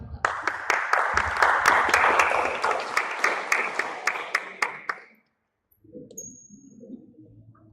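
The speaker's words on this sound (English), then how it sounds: "Let's give them a big round of applause." An audience at a graduate student conference claps for about five seconds, a loose burst of hand claps that thins out and stops, followed by quiet murmuring.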